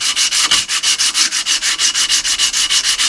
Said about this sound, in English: put some pressure as you're sanding on that blade.